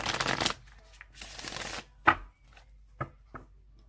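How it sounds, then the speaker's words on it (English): A tarot card deck is shuffled by hand in a few separate bursts of riffling and flapping, close and fairly quiet, followed by soft taps between short pauses. "Okay, so I'm going to shuffle it 3 more times."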